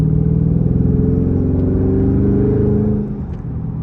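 Engine whine and low drone of a 650 hp Dodge SRT 392 Scat Pack accelerating, heard from inside the car as a steady rising tone that eases off near the end, with no talking.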